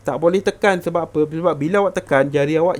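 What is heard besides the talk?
None of the usual background noises is heard.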